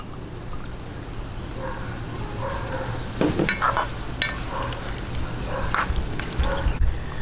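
A pan of bringhe, a Kapampangan rice dish, bubbles and sizzles steadily up close, with occasional scraping and clinks of a utensil stirring the mixture.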